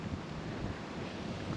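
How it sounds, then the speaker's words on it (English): Steady broadband wind buffeting a microphone outdoors on an Aventon Pace 500 e-bike, a constant low rumbling roar with no pauses, loud and close throughout. "it is windy out today"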